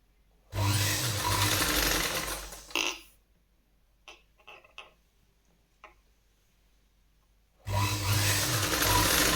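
A sewing machine stitches blouse fabric for the back piece of a katori blouse in two loud, steady whirring runs, with a quiet stretch of light clicks and taps between them.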